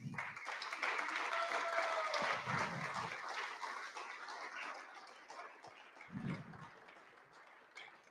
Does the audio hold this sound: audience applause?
yes